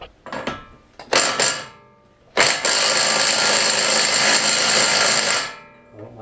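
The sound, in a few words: impact wrench removing axle nut on R32 Skyline GTR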